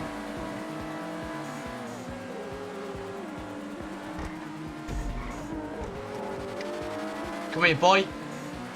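A car in the Grand Theft Auto video game skids, its engine droning under excited voices until a sharp tire squeal near the end, with a short rumble of impact midway.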